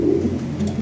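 Lahori Siraji pigeons cooing up close, a single short, low throaty coo rolling on alone with no voices.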